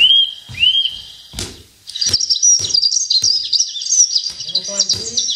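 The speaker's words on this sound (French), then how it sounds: "Les oiseaux dans la montagne." Wild birds singing in the mountains in spring, a few short chirps and whistles at first, then a dense, continuous chorus of bright, trilling song up close, with a soft thump partway through.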